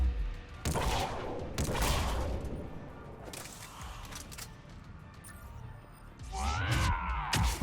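Automated turret firing in the Mass Effect 3 video game, sharp bursts of gunfire with heavy low booms, loudest at the start and again near the end, with a rising whine over a busy battle mix.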